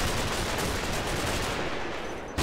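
Dense, sustained gunfire in the Combat Mission war game forms a loud, continuous crackling roar of rapid shots that eases slightly before a sharp final burst.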